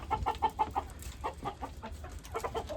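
Native frizzle-feathered hens, white and black-grey, in a village breeding pen give quick rhythmic clucks, near and fairly faint, in repeated short bursts without talk.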